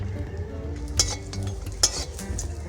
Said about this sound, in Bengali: বড়িটা একটু হালকাভাবে ভেজে নেব অল্প পরিমাণ সর্ষের তেল দিয়ে নিচ্ছি